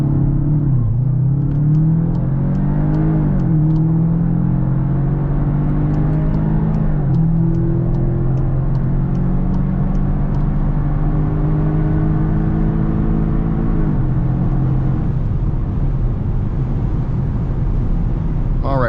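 A 2021 Volkswagen Arteon R launching hard under launch control in race mode, engine note climbing through several gears with short dips at each shift, loud and steady from inside the cabin on a busy highway.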